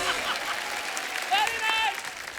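Studio audience clapping at a televised Hindi comedy show. A steady wash of applause runs throughout at moderate level, with voices sounding over it.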